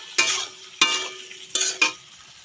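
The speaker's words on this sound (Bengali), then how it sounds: "এই যে এখন ডিম দিয়ে দিলাম, একটু নাড়িয়ে, এই তো একটু নাড়িয়ে ছড়িয়ে নিচ্ছি" Eggs being stirred and spread in a hot pan with tomato and turmeric, four short scraping strokes over a soft sizzle, close and fairly quiet, no voices.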